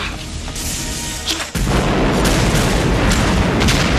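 A loud film explosion from the movie Leprechaun 2, a sudden heavy boom that bursts in and holds as a dense, roaring rumble with crackling debris for several seconds.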